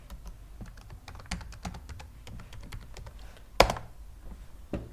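Keys clatter on a computer keyboard as a C# script name is typed, a quick irregular run of close clicks ending in a sharper, louder tap.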